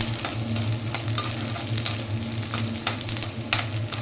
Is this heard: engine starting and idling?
no